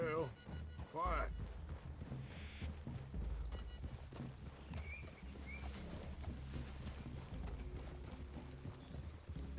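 Horses walking in Red Dead Redemption 2, steady hoof clip-clops thudding under game dialogue and background sound, with a possible whinny early on.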